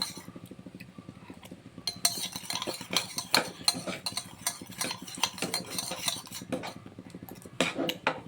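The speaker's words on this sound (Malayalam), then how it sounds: "ഇനി കലക്കാം." A spoon stirs lemon water with salt in a glass, giving a run of quick, close clinks and scrapes against the glass, repeated and irregular, with no talk.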